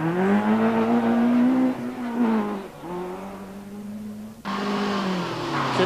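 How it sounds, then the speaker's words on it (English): A Datsun rally car at the 1983 Circuit of Ireland Rally drives hard, its engine droning loudly with rising and falling revs and gear changes, close and alone. "Ernest Kidney and co-driver Peter Scott in that Datsun."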